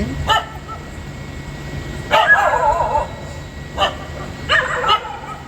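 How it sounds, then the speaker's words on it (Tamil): Several dogs barking outdoors along a quiet road, a handful of sharp barks and yips spaced a second or two apart, moderately loud against steady background noise. "அந்த பக்கம் எத்தனை நாய் இருக்குது பாருங்க ஃப்ரெண்ட்ஸ்"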